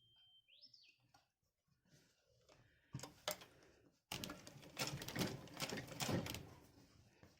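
A sewing machine runs in bursts, stitching a small item made from leftover fabric scraps with a zipper seam, with a faint chirp before the stitching grows loud and steady.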